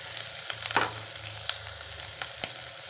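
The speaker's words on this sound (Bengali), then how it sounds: "এটা একটু ভাজা হয়ে গেলে চিংড়ি মাছের মাথাগুলো দিয়ে দেব।" Prawn heads frying in hot oil, a soft continuous sizzle with a few sharp crackles and pops scattered through, fairly close and at a modest level.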